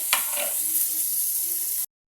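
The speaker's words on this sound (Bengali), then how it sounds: "তো ডিমটা কাটা হয়ে গেছে, এখন আমি এটাকে ভাজা করে নেব।" Pieces of cut boiled egg fry in oil in a pan with a bright, constant sizzle that lasts nearly two seconds and then stops abruptly.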